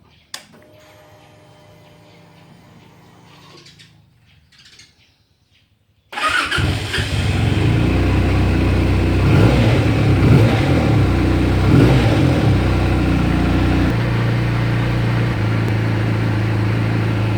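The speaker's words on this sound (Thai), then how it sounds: "ให้ฟังเสียงท่อหน่อย ก็ เดิม ๆ ครับ" A Benelli Tornado 302R motorcycle with stock exhaust starts abruptly after faint background noise, then idles loudly and revs up and down with a deep, throaty exhaust rumble.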